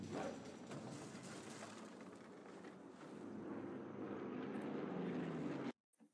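Steady broadband propeller-plane drone from an aircraft passing overhead in Sniper Elite 3, loud and continuous, swelling slightly before cutting off abruptly near the end.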